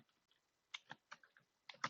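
A computer keyboard clatters in short bursts of faint, quick keystrokes as code is typed, with brief pauses between clusters.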